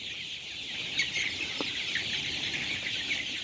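Chickens on a farm in the morning, with roosters among them, make a steady background of clucking and chatter, with a brief crow-like call rising near the middle.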